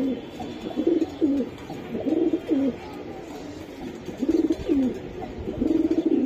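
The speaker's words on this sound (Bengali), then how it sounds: "এই যে দেখেন কতটা কড়া কবুতর" A pair of high-quality pigeons, a male and a female, coo close by in repeated throaty bursts with short pauses between them, standing out against a quiet background.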